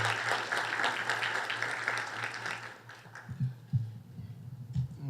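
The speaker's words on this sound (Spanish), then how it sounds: "a quien recibimos con un fuerte aplauso" Audience applause at a legal lecture on corruption and human rights in public administration fills the first three seconds as a dense, steady clatter, then fades into low room hum with a few scattered claps and faint voices.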